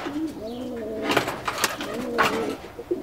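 Pigeons coo close by in soft, rolling, repeated calls, with a few brief flutters or scuffs mixed in.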